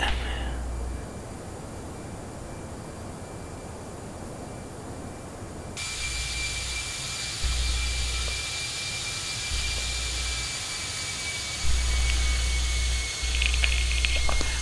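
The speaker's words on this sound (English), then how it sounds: "Almost sounded like the engines were spooling back there." Jet engines spool up in a flight simulator: a steady airliner drone jumps louder partway through and a rising whine holds, while low rumbling pulses come and go.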